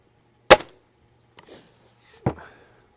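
An air rifle, a Gamo Swarm Viper fired offhand at an outdoor airgun expo, gives three sharp close cracks spaced about a second apart: a loud first shot, a fainter second and a strong third, each ending in a short ringing tail.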